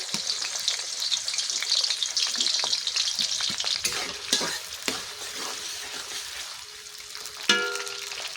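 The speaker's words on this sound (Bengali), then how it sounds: "পেস্টটা আমার ভাজা হয়ে গেছে" Spice paste frying in hot oil over an open fire, a loud, busy sizzle with repeated stirring scrapes and clatters, easing slightly toward the end.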